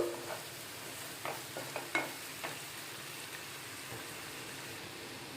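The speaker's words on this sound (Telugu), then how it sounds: "ఇది బ్రౌన్ కలర్ వచ్చే వరకు వేయించుకుని ఇది ఇలా బ్రౌన్ కలర్ వచ్చే వరకు" Goat brain fries in a pan until brown with a soft, steady sizzle, broken by a few light clinks and scrapes of stirring near the start before settling into an even crackle.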